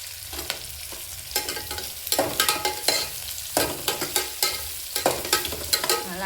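Sliced big onions sautéing in a pan, with a loud sizzle and quick, rhythmic spatula scrapes and knocks as they are stirred repeatedly, close up and without talk.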